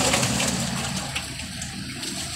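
Water poured out of a fish container, a steady rushing gush of draining liquid throughout, fairly loud and close, without talk.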